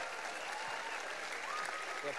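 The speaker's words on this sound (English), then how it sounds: "Let's give them another round of applause." Applause from parents and audience after a school winter chorus concert, a faint, steady, distant patter of many hands clapping with some voices murmuring underneath.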